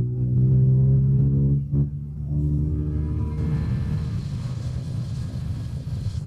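Motorcycle cruising in sixth gear, a steady engine drone that shifts into broader rumbling road and wind noise, moderately loud and close.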